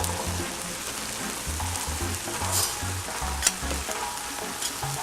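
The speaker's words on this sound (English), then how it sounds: "Our fake butter is now sizzling, so we're going to go ahead and add the callaloo." Vegan butter sizzles and crackles steadily in a hot pan, a close, continuous frying hiss with occasional sharper pops.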